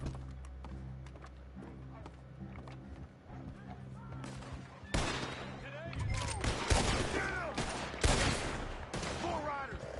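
Gunfire and volleys of shots in the Western video game Red Dead Online, with dense overlapping bursts growing louder midway amid horse hooves, under a game soundscape with talk.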